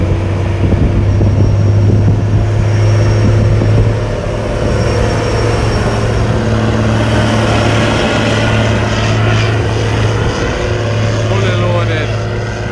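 A heavy truck engine labors up Melrose Hill with a strong steady drone and turbo whine, loud and continuous throughout; voices are faintly present.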